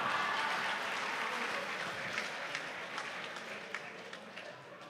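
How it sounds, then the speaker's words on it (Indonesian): Audience clapping at a human rights day kick-off and local election declaration event, a steady broad wash of applause that slowly tapers off over about five seconds. "Tepuk tangannya dulu teman-teman dong."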